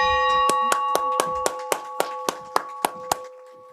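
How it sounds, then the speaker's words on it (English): A ringing bell at a town council swear-in ceremony, struck about ten times in a quick steady rhythm, each clear metallic strike sustaining over the others, close and loud with no talking. "You sign and ring the bell."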